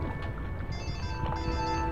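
A mobile phone rings with a steady electronic tone, heard in two bursts at moderate level over a background of game sound.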